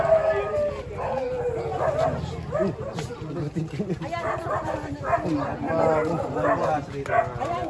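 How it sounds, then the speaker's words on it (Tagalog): Several dogs bark and yip at close range, with some whining and howling, mixed in with people talking. "Ang mga aso."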